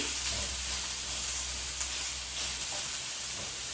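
Shrimp fry in a hot pan, giving a steady, even sizzle with a soft hiss throughout and no pauses or voices.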